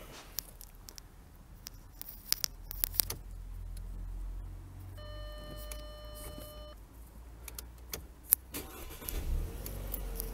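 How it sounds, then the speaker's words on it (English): A 2008 Audi A4 Avant petrol car starting up, with a brief electronic chime, clicks and the starter whirring into a low, steady idle, heard from inside at moderate volume. "The car starts first time."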